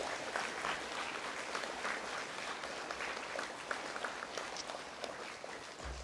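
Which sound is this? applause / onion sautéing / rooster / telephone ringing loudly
applause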